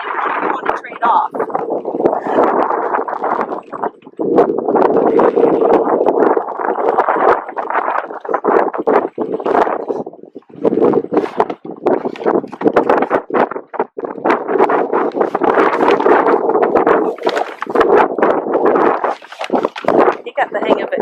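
Strong wind buffets the microphone on a sailboat during emergency jib douse practice, a loud continuous roar with gusty surges, and people talk over it now and then.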